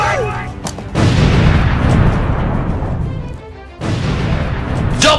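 Grenade blasts in a superhero-themed video game: a loud, heavy burst with a long rumbling tail, a brief lull, then a second booming blast, with some voice sounds mixed in.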